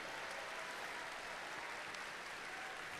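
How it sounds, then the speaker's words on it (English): Steady applause from a large crowd at a robotics state championship, sustained clapping heard at a distance and fairly faint, with no voices over it. "Let's give them a huge round of applause."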